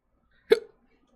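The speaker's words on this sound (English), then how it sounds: "I'm full of hiccups" A single sharp hiccup sounds close and loud, a brief burst that cuts off quickly, followed by silence.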